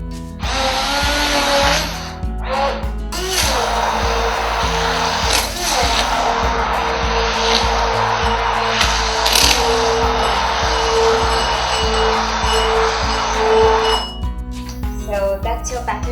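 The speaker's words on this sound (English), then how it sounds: "Now I'm going to take my handy handheld beater and whisk this well." A handheld electric beater whisks crepe batter made with coconut and a pinch of turmeric, a loud steady mechanical whir running almost without break for about twelve seconds, then stopping and starting in short bursts at the end.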